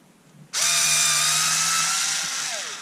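Black & Decker 3.6V cordless screwdriver backing out screws, a steady close whirring motor drone that starts abruptly after a quiet moment and runs continuously without pause.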